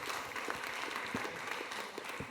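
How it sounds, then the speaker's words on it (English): An audience applauds the speakers at a demographic data conference, a dense, steady wash of many hands clapping at close range, alone without talk, for a couple of seconds. "could we please get a round of applause for our distinguished speakers?"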